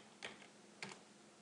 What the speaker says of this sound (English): Then I type in my nickname,